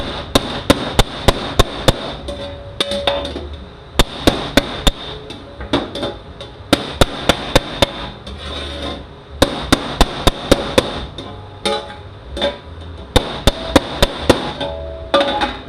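Repeated loud metallic hammer blows flattening bent transmission oil pans from a TorqueFlite 6 rebuild, sharp ringing strikes in rapid bursts separated by short pauses, close and dominant.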